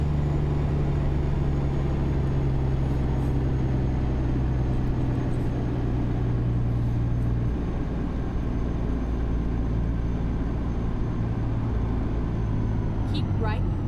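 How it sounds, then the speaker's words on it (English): A new truck engine idles and runs steadily in a driving video game, a low constant hum with a droning tone that shifts pitch partway through, under the player's intermittent talk. "Got me new engine in. New sound."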